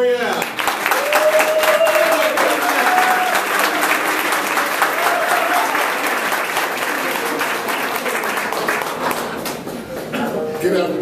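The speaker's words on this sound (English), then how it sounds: "give a great round of applause and a Chicago welcome" Sustained applause from a Chicago audience at a memorial gathering greets drag performer Latrice Royale, steady dense clapping filling the whole stretch, with some voices and cheers mixed in.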